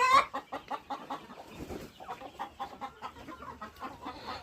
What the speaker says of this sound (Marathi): काही कोंबड्या आतमध्ये अंड्याला बसलेल्या आहेत